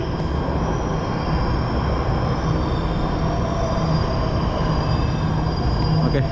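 A Jakarta MRT train arrives at a station with a loud, steady rumble of wheels on rail and a thin high squeal above it. It stays close and constant throughout, with no talking.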